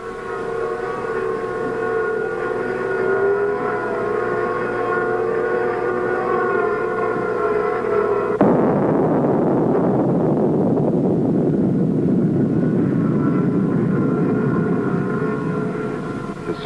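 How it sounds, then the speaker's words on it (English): Geophone recording of the Gnome underground nuclear explosion: a steady, buzzing harmonic drone from helicopters overhead gives way midway to a dense, continuous ground rumble, with the buzzing still faintly present. "The buzzing sounds over the Earth noises are from helicopters flying overhead."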